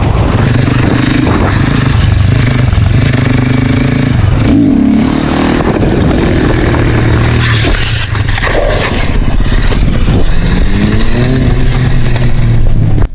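A motorcycle ridden hard by a professional biker on a closed practice course, its engine loud and close, revving and shifting pitch with scraping and clattering noises mixed in.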